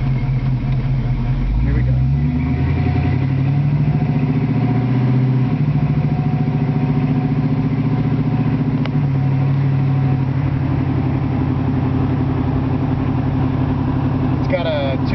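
A 1966 Mustang convertible with a 289 engine and C4 automatic transmission fires up and settles into a steady, rumbling idle nearby, while a voice briefly speaks over it.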